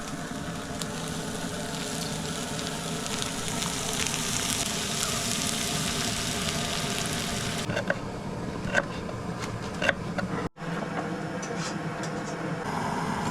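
Onion fries for chicken sukka in a pan, giving a steady, close sizzle that runs the whole time with a few small clicks and a brief dropout near the end.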